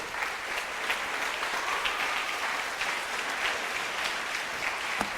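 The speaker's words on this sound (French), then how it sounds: "l'acclamation est timide" Faint, thin applause from a church congregation during a sermon, a scattered steady patter of clapping held at low level throughout with little talk.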